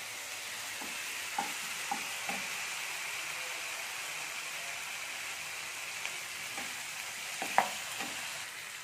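Ginger and spices sizzling in a pan in a steady, faint frying hiss, with a few soft scrapes of a spatula stirring at intervals.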